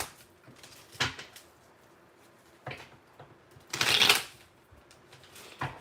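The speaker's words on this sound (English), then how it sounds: "let me go ahead and just put out these cards for you" Tarot cards are shuffled in several quick riffling bursts, the loudest near the end, with soft handling noise and slaps between them as the cards are laid out.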